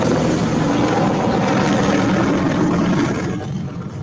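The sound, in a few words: helicopter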